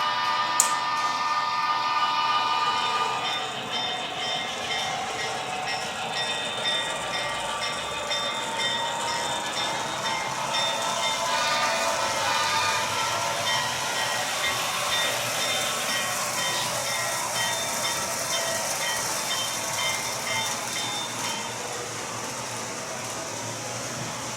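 A model railroad train rolls steadily along a club layout, a continuous close rumble with a faint rhythmic clatter and no pauses.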